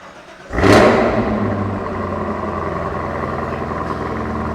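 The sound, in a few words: Lingenfelter 720 horsepower Camaro engine exhaust revving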